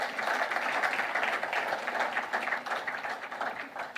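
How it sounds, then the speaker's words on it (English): An audience at a leadership lecture on power sector solutions breaks into applause: a dense, continuous patter of many hands clapping at fairly even strength from start to finish. "Can we have a round of applause for him?"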